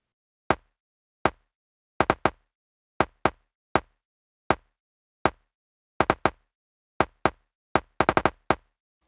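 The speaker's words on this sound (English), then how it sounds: "I'm gonna mute the kick and I'm just gonna solo the parallel so you can hear what it sounds like." A soloed parallel EQ track of a kick drum plays sharp, dry isolated hits in an irregular pattern, some single and some in quick doubles and a fast cluster near the end, with silence between.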